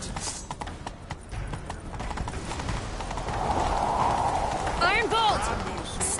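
Hooves clip-clop in a quick galloping rhythm as a horse is ridden in pursuit in The Witcher 3, with shouting voices, a rising rush of motion and a brief whinny near the end.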